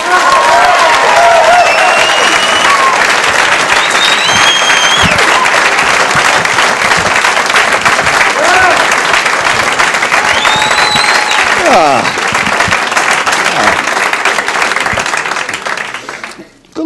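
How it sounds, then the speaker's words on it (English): A large audience claps steadily and loudly, sustained applause with scattered whoops and crowd noise, fading out at the very end. "Please, a nice round of applause, Mr. Don Gavin."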